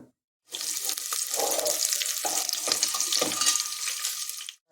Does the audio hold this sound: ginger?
yes